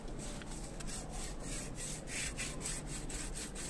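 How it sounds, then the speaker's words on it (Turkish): Rhythmic back-and-forth rubbing of sandpaper on a car steering wheel, light pressure, steady and close, with no talking. "zımparalama işlemine geçiyorum"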